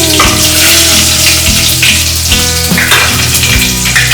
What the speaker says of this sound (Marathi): त्याच्यामध्ये मी कढीपत्त्याची फोडणी देते.